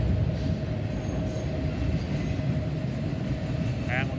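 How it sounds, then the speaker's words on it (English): A general merchandise freight train rolls past at Oak Harbor in a steady, loud rumble of wheels on rail, with rhythmic clatter and a brief wheel squeal near the end. A voice talks over it at times. "we're actually getting towards the end of the gen merch train too here"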